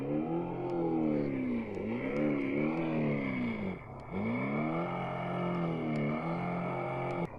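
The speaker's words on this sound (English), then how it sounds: "dirt bike sound." Simulated dirt bike engine sound from the speaker of a Hillmiles pop1 electric kids' dirt bike, a continuous synthetic revving tone that swells and dips in repeated cycles, steady and close with no talk.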